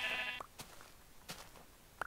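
A sheep bleats in Minecraft, a short faint bleat followed by a few quiet game noises and clicks, with no talking.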